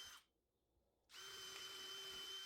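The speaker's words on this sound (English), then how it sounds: "Now drill a couple of holes for the base." A power drill whines steadily after a brief pause, drilling holes in scrap wood, its motor running at a constant high pitch, close and loud.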